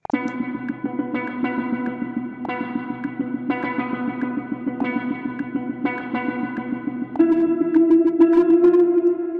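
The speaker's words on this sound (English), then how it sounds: "the signal is actually not going through the delay and then going to the reverb" A sustained, harmonically rich instrumental tone with audible echoes and a washy reverb tail, growing louder and brighter near the end.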